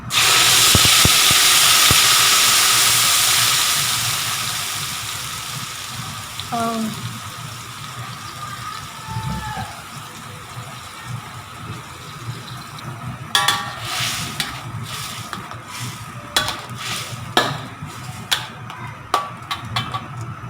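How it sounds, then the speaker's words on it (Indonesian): Ground spice paste for spicy crab dropped into hot oil, a loud sizzling hiss that slowly settles, followed later by scattered stirring clinks and scrapes in the pan. "Terus goreng bumbunya tadi yang sudah dihaluskan."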